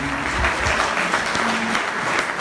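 Audience applause, a dense continuous patter of many hands clapping, fairly close and loud, running steadily for the whole stretch with a voice faintly underneath.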